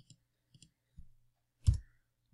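A computer keyboard and mouse give a few soft, close clicks, sparse and separated, ending in one firmer key press.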